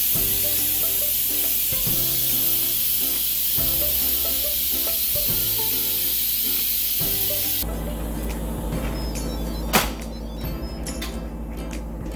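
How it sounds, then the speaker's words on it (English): A pressure cooker of beans being depressurized releases a loud, steady rush of steam that runs for several seconds, then cuts off abruptly, leaving quieter kitchen background and a single sharp knock. "I'm going to depressurize the pot and take out the beans."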